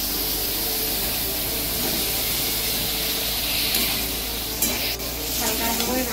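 Potato and cauliflower pieces sizzle steadily in spiced oil in a pan, a continuous close frying hiss with faint stirring scrapes, no voices.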